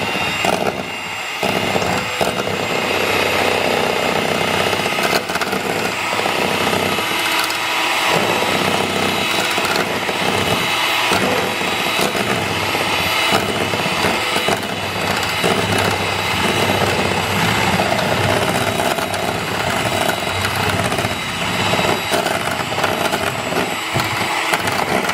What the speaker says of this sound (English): I'm gonna beat these eggs until they are frothy